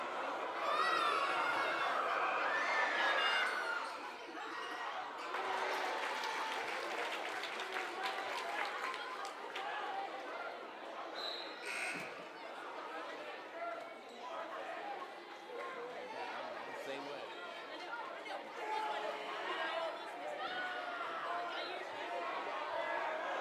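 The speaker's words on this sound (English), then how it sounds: "with the boys' game, it's even louder, and it's packed" A packed gym crowd at a boys' high school basketball game keeps up a constant murmur of chatter and shouts, with scattered claps and a voice talking close by over the noise.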